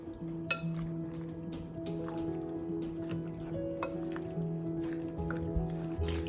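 Raw chicken pieces worked by hand with salt and cornflour for a Chinese chicken fried rice, giving soft wet squishing and sticky smacks that run steadily throughout, close and moderately quiet, with a faint steady hum beneath.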